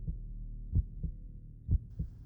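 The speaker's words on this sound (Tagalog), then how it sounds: "Tumibok na mabilis ang puso niya." Fast heartbeat sound effect: low, muffled paired thumps repeating in a quick steady rhythm, close and alone.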